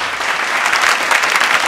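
Audience applause welcoming a guest on a Bhojpuri music show stage, a dense burst of many hands clapping together, loud and close, sustained evenly without talk.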